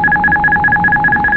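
A warning tone sounds in the cockpit of an Air Baltic Airbus A220-300 on a delivery flight landing in Riga as the autothrottle disconnects: a steady, clear two-note beep repeating rapidly about seven times, with faint cabin hum underneath.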